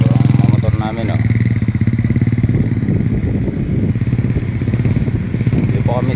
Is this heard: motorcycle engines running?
yes